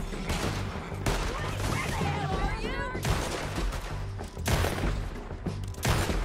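Repeated heavy gunshots boom in Red Dead Redemption 2, sharp loud blasts spaced about a second apart over a busy background, with faint talk between them.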